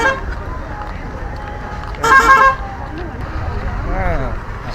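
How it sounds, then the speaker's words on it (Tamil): Car horns honk amid busy road traffic, with a loud burst of honking standing out over the steady rumble of passing vehicles while people talk nearby. "ஒரு சில பேர் முட்டாள்தனமாக ஹார்ன் அடிப்பானுங்க"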